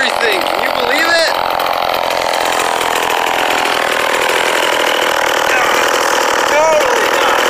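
A Homelite XL12 chainsaw idling after a revival, a steady buzzing engine drone running continuously with a couple of brief squeaky tones, people talking over it.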